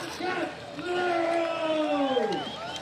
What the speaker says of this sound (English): crowd loves him. They're right behind him straight away